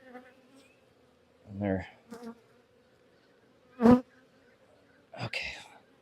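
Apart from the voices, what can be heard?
bees buzzing in a beehive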